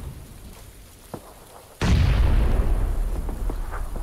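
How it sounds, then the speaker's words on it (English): Grenades detonate in a PUBG battle: after a quiet stretch with a small pop, one loud, close explosion bursts in and a heavy rumbling roar carries on to the end. "Look at the rock where the grenades are going off at."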